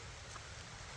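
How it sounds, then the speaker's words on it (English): Rain falls outdoors in a steady, even hiss during track assembly work in a wooded setting, soft and continuous with no talk. "Wow, is it raining?"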